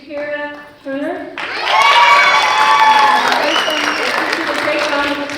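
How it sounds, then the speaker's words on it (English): A graduation crowd at West Town Academy applauds and cheers honors students. Loud, sustained clapping swells with shouts and whoops after a speaker's voice is heard announcing names. "Great round of applause."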